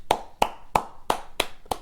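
A lone pair of hands clapping by itself after a wrestling match on Monday Night Raw, six sharp, evenly spaced claps in quick succession with no crowd joining in.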